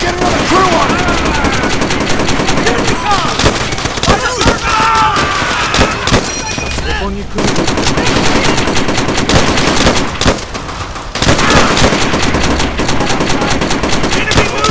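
Machine gun fire in the Call of Duty: World at War video game, loud sustained bursts of automatic gunfire with brief pauses, dense and close, with battle noise throughout.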